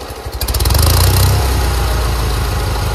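A Toro 616Z zero-turn mower engine runs on full choke at half throttle, its loud, uneven low rumble surging as it starts to labour and nearly stall, heard close and alone.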